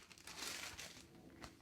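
Paper tucked inside the packaging of a crochet book crinkles close by, a soft papery rustle with a louder crisp burst early on and another brief crackle near the end.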